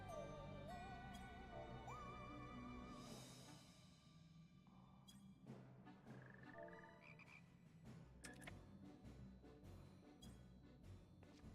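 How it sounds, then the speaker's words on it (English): Frogs croaking in the video game Final Fantasy XIV, heard as short repeated calls over game music and sound effects at a moderate level, with no talking. "Frogs."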